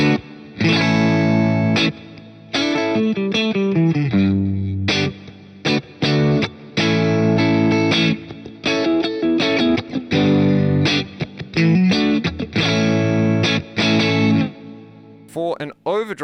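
Electric guitar played through a BOSS GT-1000 with hall reverb set to about three seconds and a long pre-delay, sustained distorted chords and phrases ringing out with short gaps, the tail washing off before a few clicks at the end.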